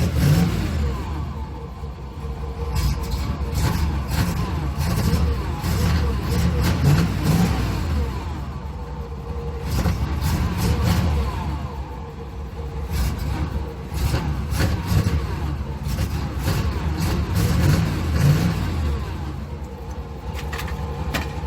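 A Chevy 305 V8 in a boxy Chevrolet idles and revs after sitting a long time, its rough, loud engine note rising and falling close by with no talk.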